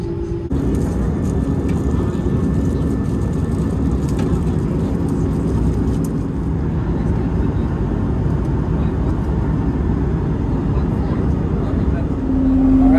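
Passenger airplane taking off on a flight to Cebu, heard from inside the cabin as a loud steady engine roar and rumble that swells slightly near the end.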